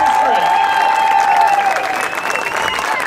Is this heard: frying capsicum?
no